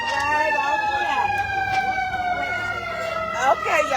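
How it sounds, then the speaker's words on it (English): Ambulance siren passing along a street, a loud wailing tone gliding steadily downward as it goes by, with traffic rumble underneath and people nearby. "Let's see if we can get the ambulance pass first"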